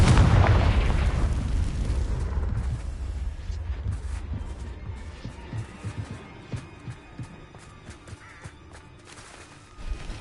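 Spell explosions from Bombarda and Confringo in Hogwarts Legacy, a heavy booming blast at the start that rumbles and decays, followed by scattered smaller pops and crackles.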